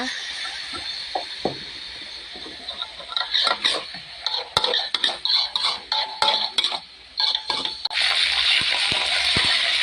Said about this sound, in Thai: แล้วก็คลุกกับหมูลงไปค่ะผัดคลุกเข้าให้เข้ากันค่ะ